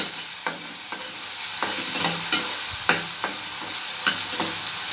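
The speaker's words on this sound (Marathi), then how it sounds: "कांद्यामध्ये आपण मीठ पण टाकून घ्यायचे म्हणजे कांदा आपला लवकर परतला जातो छान मिक्स करून घ्यायचं आहे आपल्याला" Salted onions fry in a pan while being stirred, a steady sizzle punctuated by regular spatula strokes scraping and tapping against the metal.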